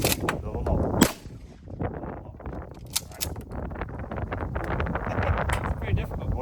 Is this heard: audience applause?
no